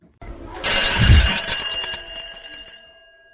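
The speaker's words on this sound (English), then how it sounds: "school bell" A school bell rings loudly and continuously, bright and metallic, sustained for about two seconds before fading out; no talking.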